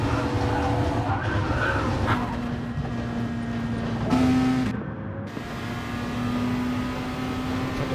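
Race cars in the Gran Turismo Online touring series skid with steady tire and engine noise, and a heavier crash-like jolt comes midway, under faint commentary.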